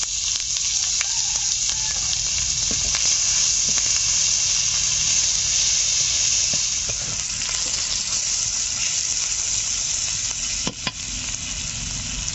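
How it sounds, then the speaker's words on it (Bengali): Chopped onion hits hot oil with whole white cumin seeds in a pan where fish was just fried. It gives a loud, continuous, close sizzle and hiss that fills the whole stretch with no voices. "গোটা সাদা জিরে ফোড়নে দিলাম, পেঁয়াজ কুচি দিয়ে দিচ্ছি"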